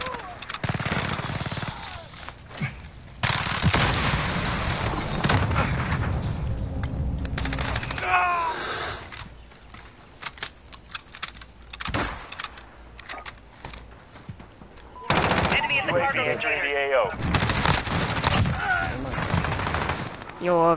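Call of Duty Modern Warfare gunfire on the Shoothouse map: bursts of rapid shots and booming fire come in clusters, with quieter gaps between heavy volleys.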